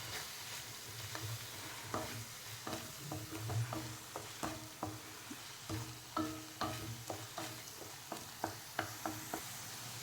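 Onion-tomato masala with chili powder, turmeric, coriander-cumin and Kashmiri chili being stirred in a pan for a green chickpea curry: repeated clacking spoon scrapes over a steady low sizzle, close and moderately loud, with no talking.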